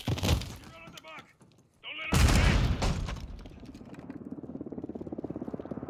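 Grenade explosion and gunfire in the shooter Modern Warfare 2: a burst of shots and shattering, then a loud blast that decays into a rumbling, rhythmic rattle, with a voice shouting briefly near the start.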